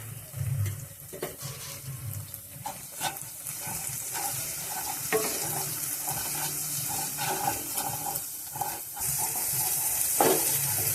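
Ground cumin, turmeric and salt sauté with poppy seed paste in a pan, a close steady frying hiss with scraping stirs and brief clinks of the spoon throughout.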